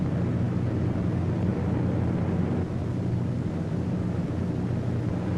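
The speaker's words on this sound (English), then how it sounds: "A formation of 18 B-17s was on its way to attack Rouen." A World War II formation of 18 B-17 bombers flies toward a target, a continuous deep engine drone holding steady and loud without a break.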